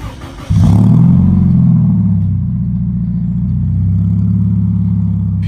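A 2014 Scion FR-S sports car engine cranks and fires up with a sudden deep roar, then settles into a loud, throaty idle from a rumbling custom-made exhaust.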